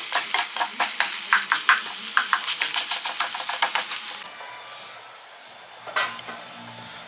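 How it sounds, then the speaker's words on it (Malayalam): Spoon stirring fish egg thoran in a pan: a quick, steady rhythm of close scraping strokes over a soft sizzle, then the stirring stops, leaving a quiet sizzle with one sharp clack near the end. "നമ്മൾ ഇടയ്ക്ക് ഇതിൻ്റെ അടിയിൽ പിടിക്കാതിരിക്കാൻ വേണ്ടി ഇടയ്ക്ക് തുറന്നിട്ട് ഇളക്കി കൊടുത്തുകൊണ്ടിരിക്കണം കേട്ടോ"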